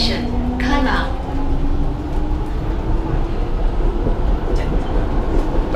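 Singapore MRT train running from the airport, a steady close interior rumble and rolling noise with a faint rising motor whine, people talking inside the carriage.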